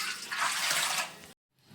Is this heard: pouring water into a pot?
yes